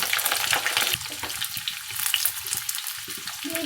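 Three medium potatoes cut into pieces fry in a pan over medium flame, giving a loud, dense sizzle with bursts of crackle and light stirring scrapes, and no voices.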